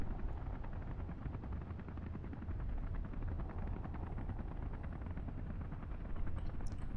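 A military helicopter in Space Engineers keeps up a steady, dense rotor thrum that holds at an even level for several seconds, heard alone and fairly distant without voices.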